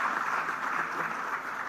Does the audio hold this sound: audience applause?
yes